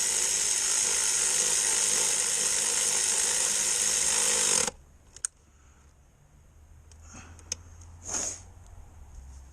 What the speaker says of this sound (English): This little AC Delco actually torques it down pretty good.